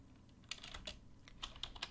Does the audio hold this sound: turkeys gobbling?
no